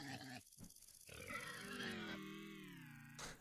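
Several pigs grunting in the video game Vintage Story, a rough burst of close grunts followed by a longer, wavering squealing grunt, fairly loud with no talk over it.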